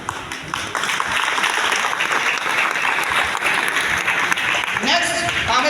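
Dense, steady audience applause fills the whole stretch, loud and continuous, with a murmur of voices underneath and a brief voice rising near the end.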